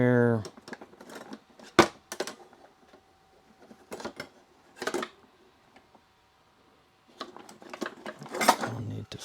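Cooked roast and vegetables being cut from a Ninja Speedi, with sharp knife and cutlery clinks against a board or pan in scattered bursts, separated by quiet gaps and some speech.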